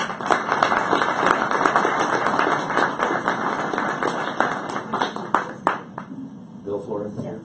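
Audience applause welcoming a speaker at a formal event, with dense, steady clapping from a crowd that holds throughout and thins slightly near the end, a few sharper claps standing out.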